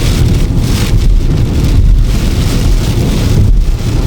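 Heavy storm wind and rain roar loudly and without a break around a moving car during a typhoon, with a dense, rushing wash of noise and strong wind buffeting.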